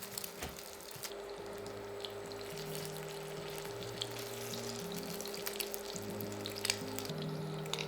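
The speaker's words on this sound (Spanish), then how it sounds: "vamos a ir friendo las rebanadas de pan" Bread slices sizzle and crackle softly in hot oil, a continuous frying hiss with scattered pops, close and fairly quiet.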